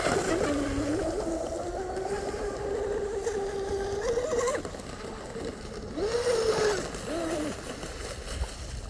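Deltaforce Vortex 34 RC hydroplane boat on water, its electric motor whining steadily with rising and falling pitch, fairly close and loud throughout, with a brief dip and surge near the end.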